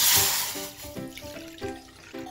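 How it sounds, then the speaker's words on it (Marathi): Water splashes and gurgles in short pulses as a glass of it is poured into a metal kadai, close and moderately quiet. "यामध्ये आपल्याला 1 ग्लास पाणी टाकून घ्यायचं आहे"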